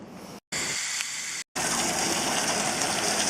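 Water from a Crud Cutter hose system sprays onto a metal roof during cleaning with Mean Green cleaner. It makes a steady, close, hissing gush, cut by two brief pauses and then running on without talk.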